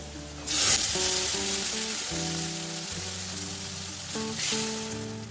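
Masoor dal hits hot oil with fried onions in a pan, sending up a sharp sizzling burst followed by a steady frying hiss and a second flare, all over soft background music with no talking.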